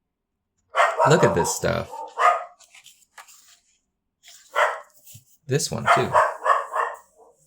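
A dog barks loudly in bursts of several sharp, close barks that overlap someone talking.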